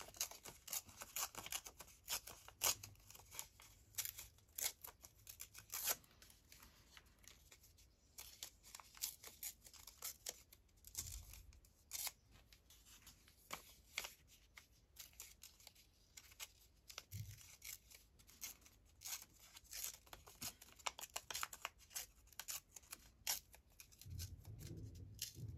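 Paper being torn by hand around a flower shape for a craft project, a series of quiet, irregular ripping and crinkling bursts spread through the stretch, close up and faint, with no talking.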